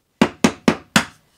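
Four sharp, evenly spaced hammer blows strike metal pieces to texture them with hammer marks, each a bright ringing impact that decays quickly, close and loud with no talking.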